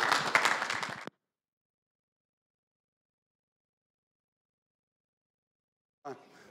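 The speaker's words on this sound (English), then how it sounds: "So let's give him a round of applause." Audience applause at a church service bursts out for about a second, dense and close, then cuts off into silence before a voice begins faintly at the end.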